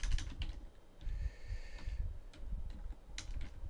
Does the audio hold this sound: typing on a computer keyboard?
yes